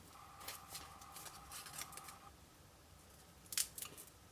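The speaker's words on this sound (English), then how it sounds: "Cut off the ends." Scissors snip through the ends of a flattened paper milk carton in a paper-craft project, a run of close, crisp cuts followed by a brief sharper rustle near the end, with no talking.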